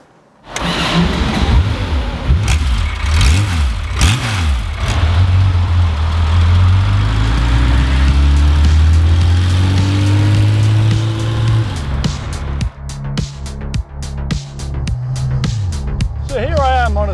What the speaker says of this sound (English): I'm going to be driving Nick and Ed PIKES TWINSPARK Racing 1973 RSR Porsche 911